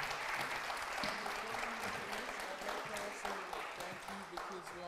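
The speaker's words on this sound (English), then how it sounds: "I'd like to invite you to give a round of applause to all our presenters." Sustained audience applause for conference presenters, a dense wash of many hands clapping steadily at close range, fading slightly toward the end.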